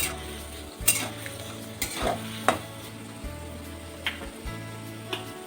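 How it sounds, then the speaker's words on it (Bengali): Tomato paste going into fried garlic in hot oil for a South Indian tomato pickle, giving a low continuous sizzle with intermittent spoon scrapes and clinks against the pan, no talking. "আমি এই টমাটার পেস্টগুলো দিয়ে দিচ্ছি।"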